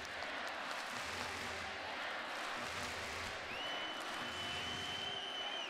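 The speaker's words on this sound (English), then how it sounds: "The crowd are chanting their name, trying to keep them right up there." A handball arena crowd at the 2014 European Championship, Denmark against Hungary in the Boxen, roars and applauds continuously as a dense, distant wash of noise, with a whistle sounding near the end.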